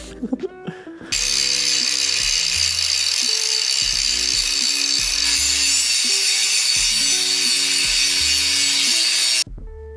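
A power tool grinds broken welds off a steel excavator tree shear, starting abruptly and running loud and continuous with a harsh abrasive hiss and low pulsing hum until it cuts off at the end.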